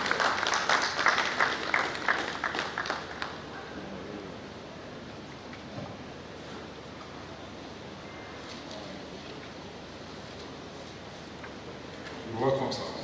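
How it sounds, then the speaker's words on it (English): Audience applause at a builders conference in Lagos, a burst of clapping at the start that fades into low room noise with talk over it. "give me a round of applause"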